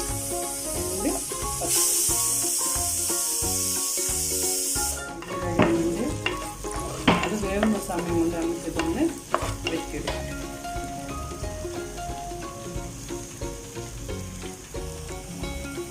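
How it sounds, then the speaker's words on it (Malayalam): Chopped garlic, ginger and green chillies fry in hot oil in a pan, starting as a bright hiss and settling into a busy sizzle with scraping stir strokes, close and steady, no talking. "നമ്മൾ വെളുത്തുള്ളി ഇഞ്ചിയും പച്ചമുളകെല്ലാം പച്ച നിറം മാറി വന്നിട്ടുണ്ട്"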